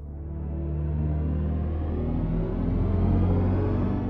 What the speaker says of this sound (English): With HypersonX, we do have different driving sounds depending on the experience.